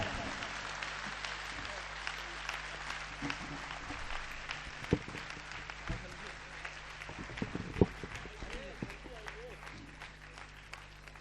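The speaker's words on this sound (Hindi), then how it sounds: "आपकी जोरदार तालियां शैलेश लोढ़ा का अभिवादन" Audience applause greets comedian Shailesh Lodha as he arrives at a live comedy show in a hall, a sustained roomy patter of many hands with a few louder claps and faint voices mixed in.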